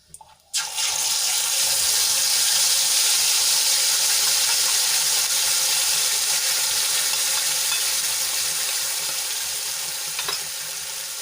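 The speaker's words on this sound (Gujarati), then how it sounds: "હવે આપણી જે ગ્રેવી બનાવેલી છે એને એડ કરી દઈશું" Gravy poured into a hot pan of tempering with dried red chili and asafoetida for a green pea curry, an abrupt loud sizzle that rises instantly and keeps up a steady hiss, easing slightly toward the end, with no talking.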